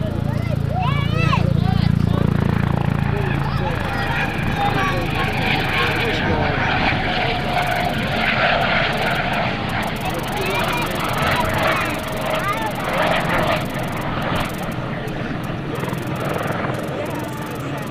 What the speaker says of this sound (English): This is the HH-65 Dauphin helicopter, short-range helicopter